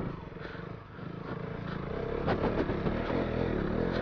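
A 400cc motorcycle engine labours steadily as the bike is ridden uphill on a sunny outing, a continuous near drone that swells slightly louder toward the end with some clattering.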